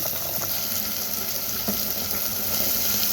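Brinjals being washed with salt in a kitchen sink, a steady close rush of running tap water pouring and splashing continuously throughout.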